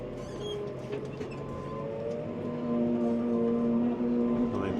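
Telehandler driven around a tight farmyard, its engine a steady low drone with tonal whine that swells slightly louder toward the end, with no clear talk over it.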